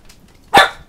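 A puppy named Loki gives a single sharp bark at its own reflection in a mirror, loud and close, with quiet room tone before it.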